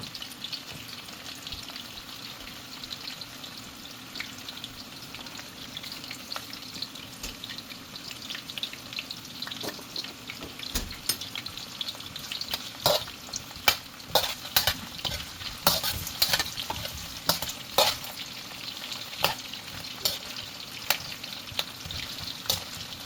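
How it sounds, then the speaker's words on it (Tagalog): Vegetables for caldereta frying in a pan, a constant sizzle punctuated by scraping stirs and utensil clatter that grow busier and louder midway, with no speech. "I-fry mo ng ating mga gulay-gulay."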